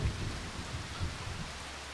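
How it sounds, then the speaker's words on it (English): Steady rain falls in a Farming Simulator 25 farm setting, a dense continuous hiss with low rumbling undertones across a short stretch, without talk. "Let's try and get rid of this rain, because the rain is absolutely hindering us right now."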